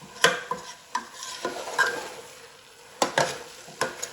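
Carrot halwa (gajar ka halwa) stirred in a pan: a series of sharp spoon scrapes and knocks against the metal come at uneven intervals, close and clear over a faint background sizzle.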